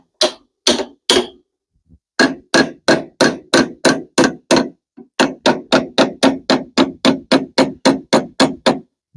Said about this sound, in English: I'm trying to use the corner of my hammer and just so delicately try to mash those in a little bit.